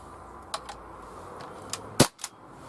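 An Umarex H&K MP5K CO2-powered 6mm airsoft gun fires several sharp, close pops spaced irregularly, with the loudest shot near the end followed by a quick second report.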